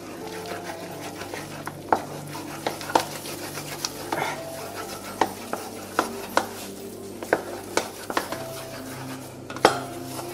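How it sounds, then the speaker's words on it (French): Flour is beaten vigorously into choux pastry dough in a pan, with repeated sharp knocks and scrapes of a utensil against the metal at an irregular rhythm, close and clear over a low background hum. "Et là, on va verser d'un seul coup la farine. Et on va mélanger de manière énergique."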